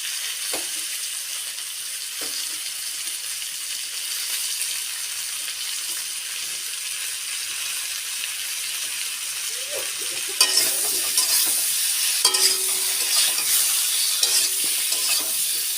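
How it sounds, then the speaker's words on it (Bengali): Mixed winter vegetable curry with tomato sautéing in a pan, a steady low sizzle with intermittent stirring clatter that grows louder and busier near the end; no talking. "কিছুটা কষিয়ে জিরে বাটা দিয়ে জল ঢেলে দেব।"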